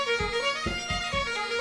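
A live fiddle recorded through a close fiddle mic holds sustained bowed notes, with a drum kit bleeding in faintly underneath as soft, regularly spaced low thumps.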